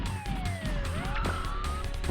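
A police car siren from the video game Misadventures of Tron Bonne wails with a gliding, falling-and-rising electronic tone, fairly quiet, over a low rumbling game background with no talking.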